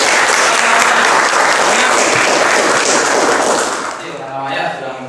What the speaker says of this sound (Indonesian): Kasih aplaus semuanya.